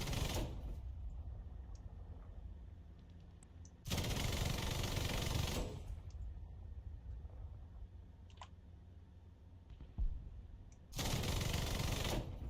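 In a video game, gunfire is aimed at a dodging enemy plane, with sustained rapid bursts of automatic fire in three long stretches separated by quieter gaps of engine-like rumble, loud and with no speech.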